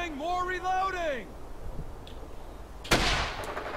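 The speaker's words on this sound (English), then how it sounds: "Shooting!" A single loud, sharp gunshot cracks out near the end in the World War II shooter Brothers in Arms: Hell's Highway. A shouted voice and some scattered smaller sounds come before it.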